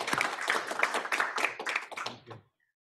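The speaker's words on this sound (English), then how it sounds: "One more round of applause for our" A committee meeting audience gives a round of applause, a brisk patter of individual claps close by that holds steady for a couple of seconds, then stops abruptly into silence.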